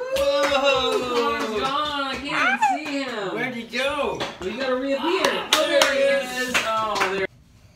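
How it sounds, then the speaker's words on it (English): A group of children claps and cheers together, with excited high voices dominating and scattered sharp hand claps mixed in before the noise cuts off abruptly. "Everyone, clap and cheer!"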